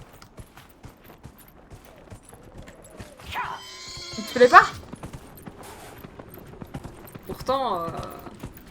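Horse hooves clip-clop in Dragon Age: Inquisition as a mount called a swamp unicorn trots along, a soft steady patter beneath a man chatting in French, with a brief whinny-like cry partway through.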